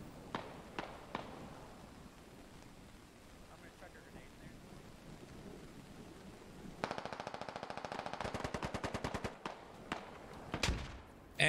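Rapid automatic gunfire in the tactical shooter SquadOps, a steady burst of loud repeated shots after quieter scattered single shots and distant pops, ending with a sharp grenade blast; a voice speaks faintly early on.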